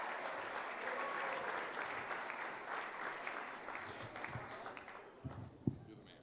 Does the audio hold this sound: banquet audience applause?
yes